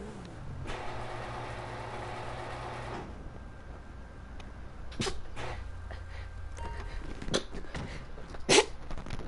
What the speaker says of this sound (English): Had to sneeze on my arm a little bit there.